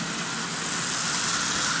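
A restored Marx diesel toy train motor with a new gear and brush plate runs steadily, giving a continuous, fairly loud whirring hum close by with no breaks and no talking.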